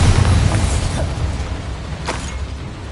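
Confringo fire spell blasts in the video game Hogwarts Legacy, a loud booming burst at the start that rumbles and fades, with a second sharp impact shortly after.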